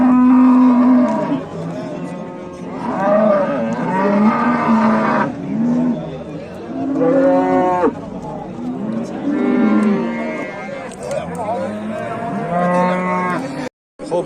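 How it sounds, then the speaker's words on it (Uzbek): A cow at a livestock sale in Uzbekistan lows repeatedly, long, loud and close moos with short gaps between them, over a background of crowd chatter and bustle. "Xo'p, navbatdagi sigirimiz."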